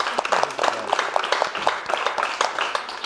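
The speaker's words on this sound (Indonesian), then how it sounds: "Tepuk tangan dong." Stand-up comedy crowd at a roast show clapping loudly on cue: a dense, sustained patter of many hands with sharp, evenly spread claps throughout.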